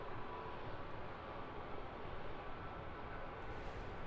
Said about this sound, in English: Nice big Airbus A300.